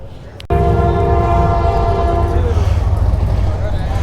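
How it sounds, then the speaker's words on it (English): A train horn blares up close at a car cruise-in in Chesterton, then a heavy, steady rumble of a passing train fills the air. "If I can get the train to shut up."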